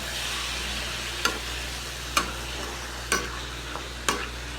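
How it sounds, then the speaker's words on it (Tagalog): Chicken for ginataang manok stirred in a pot with plenty of garlic and onion. A steady sizzle runs underneath, with four sharp spatula scrapes against the pot at roughly one-second intervals. No one speaks. "kailangan natin itong haluin para hindi ito manikit"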